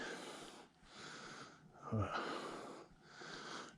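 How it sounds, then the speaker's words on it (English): Heavy, wheezing breaths of a hiker on a rocky ledge trail at Tippin Rock in Swanzey, New Hampshire, several loud close inhales and exhales in a rough rhythm, with a sharp snorting gasp midway. "I don't even know if you can hear me talking over my breathing."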